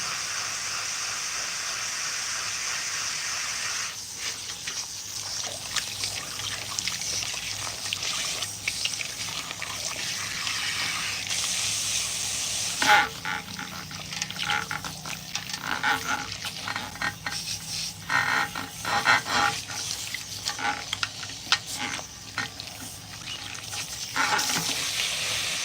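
Water streaming from a salon rinse tap at strong pressure, a steady close hiss and splash that runs throughout, growing rougher and more spattering partway through, with no talk.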